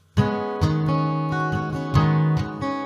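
A guitar strums a repeating chord pattern with sharp accented hits about every half second, ringing in between, played alone and close.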